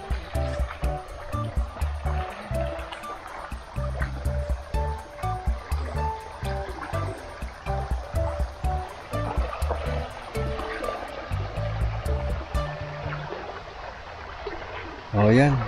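A river rushes and splashes steadily close by, a strong, continuous flowing stream on farmland in Magdalena, Laguna, with people talking over it at times.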